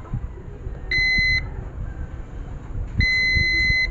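Two short electronic multimeter continuity buzzer beeps, a steady high tone each lasting about half a second, separated by a pause, over faint low background noise, while testing a speaker charger connection for a short.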